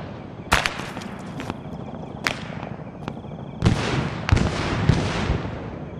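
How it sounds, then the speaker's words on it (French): Distant gunfire in ARMA III S.O.G. Prairie Fire: sharp shots crack out irregularly with echoing tails, a few single reports followed by a louder cluster of bursts, heard from afar over a low rumbling battlefield ambience. "Ça tire là-bas."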